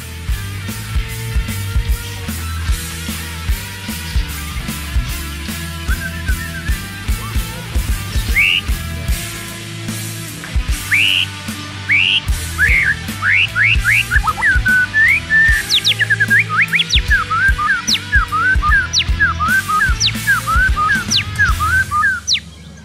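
A white-rumped shama sings loud, close whistled phrases that grow busier and more rapid over time, with chirps and trills above a low background hum.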